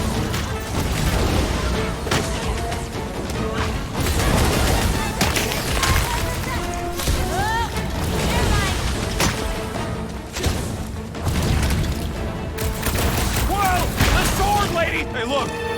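Gunfire in the Guardians of the Galaxy video game, with repeated sharp bursts of blaster shots and booming impacts in a chaotic battle, layered with music, effects and characters talking.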